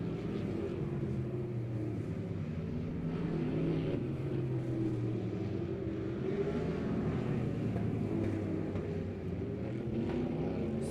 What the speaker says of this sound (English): Chris Jackson going into turn number 4.